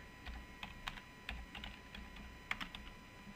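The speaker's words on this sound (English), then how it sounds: "We enter our username and password." A computer keyboard clicks softly as a username and password are typed, with short irregular bursts of keystrokes that are quiet and close, and no voices.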